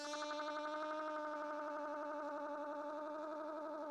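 A sustained, wavering synth tone from a delay with a randomly modulated LFO, with a fast, uneven wobble in pitch, like a delayed sound drifting unsteadily, heard alone and fairly quiet.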